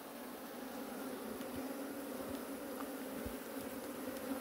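Honey bees in a log hive buzz in a steady, close drone, with a few louder individual passes cutting through the continuous hum.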